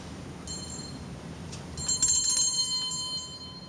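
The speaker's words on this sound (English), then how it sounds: "you'll find a little bell in there on the table." A small hand bell rung indoors on a stage set gives a short bright ring, then a louder shimmering peal that sustains and fades, heard alone without talk.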